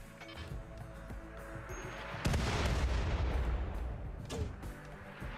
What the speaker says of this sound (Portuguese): Droga, ele atirou também com o morteiro.